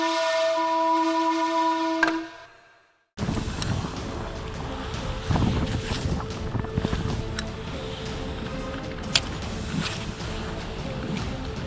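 Strong wind on a boat during squid egi fishing, a steady roar of gusts buffeting the microphone after an opening tone, with occasional knocks and clatter.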